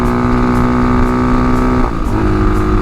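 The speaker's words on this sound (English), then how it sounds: "You can hear how different that exhaust note is on this bike now." A Tao Tao TBR7 Hawk dual sport motorcycle with a K&N air filter runs close by, its exhaust note a loud, steady engine drone that dips and shifts in pitch partway through as the revs change; no talking.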